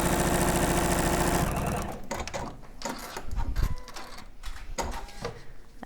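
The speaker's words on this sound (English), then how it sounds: "Flip it over, take it to the sewing machine." A domestic sewing machine stitches a seam on Tula Pink quilting fabric, starting with a steady loud motor whir that stops, followed by a few clicks and handling noises of fabric being moved.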